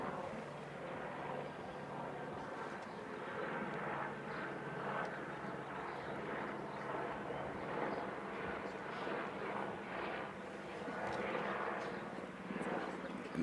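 A helicopter flies overhead outside a press conference on drug trafficking indictments, a faint, steady rotor wash and engine rumble heard under people talking.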